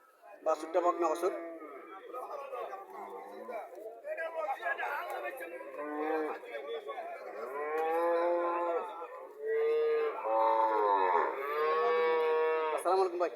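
Cattle low repeatedly at a busy cow market, including a heifer calf and Indian Haryana cows, the moos loud and near over steady chatter of people talking nearby.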